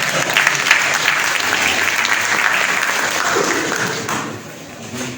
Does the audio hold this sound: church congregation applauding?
yes